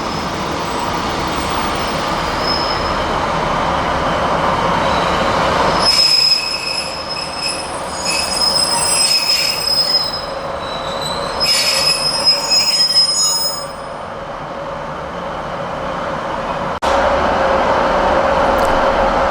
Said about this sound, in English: It reverses out of the westbound platform in order to cross over onto the eastbound track